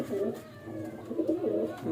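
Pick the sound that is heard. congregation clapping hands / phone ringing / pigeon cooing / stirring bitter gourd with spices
pigeon cooing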